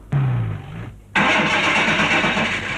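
A car engine being started with trouble: a starter whine cranks briefly, falls silent, then a harsh, loud engine roar catches and keeps running up close.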